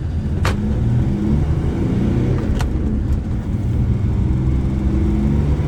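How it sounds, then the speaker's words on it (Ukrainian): A Mercedes Sprinter 516 W906 van with a 3.2 OM648 engine rumbles low and steady as it pulls away slowly in second gear, close by, with a couple of faint clicks over the drone. "Просто легенько пускаю щеплення, автомобіль рушає з другої передачі."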